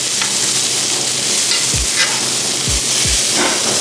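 Sea scallops sear in brown butter in a hot pan, with a loud, continuous close sizzle and spatter. A few low thumps and scrapes come from basting and moving the pan.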